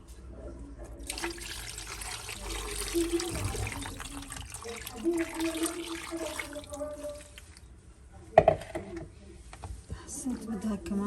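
Water pours steadily into a pot of Syrian bulgur-stuffed vegetables topped with sauce, a continuous running splash with a sharper burst near the end, while a person talks over it.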